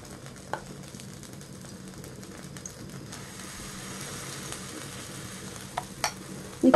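A lotus root and chive pancake fries in a pan over lowered heat, giving a soft, steady sizzle with a few faint clicks and a louder clatter at the very end.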